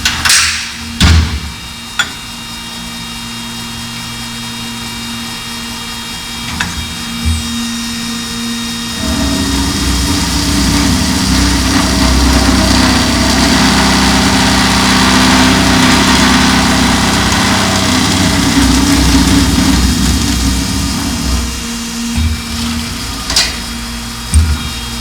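A Kaltenbach KKS400E metal-cutting saw with flood coolant is reset to 90 degrees, with sharp mechanical clunks, then a loud, steady motor drone held for several seconds, and a few more knocks as it settles.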